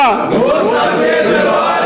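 A temple crowd at Shri Jagdambe Dham, Nakodar, roaring a loud jaikara response together for Durga Ashtami, a close, sustained chorus of voices with rising and falling chanted pitch.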